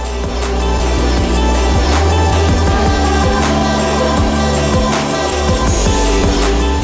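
A replacement motor spinning a new propeller on a homemade styrofoam RC airplane, a loud steady buzzing whine held throughout at close range with slight rattling fluctuations.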